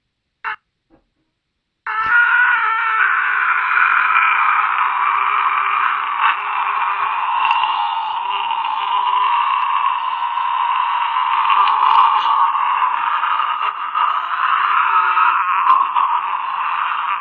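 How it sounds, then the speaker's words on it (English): A man holds a single continuous scream in an attempt at a record-long scream, loud and unbroken for well over ten seconds after a brief opening blip, with no talking over it. "That was him screaming and doing it, breaking the record."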